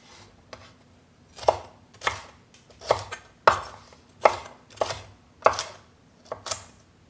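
A knife chops ingredients for a cumin lamb stir fry into small bite-sized pieces on a board, a steady series of about nine crisp, close, evenly spaced cuts with no talking.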